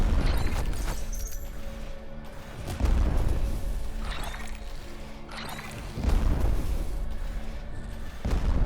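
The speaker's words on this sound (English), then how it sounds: "We got double super explosions now." Dynamite blasts in a video game go off as a series of deep booming explosions, several heavy thuds spaced a few seconds apart, each followed by a rumbling tail.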